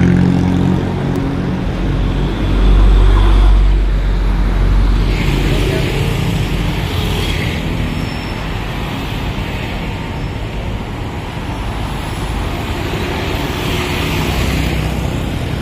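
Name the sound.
bus arriving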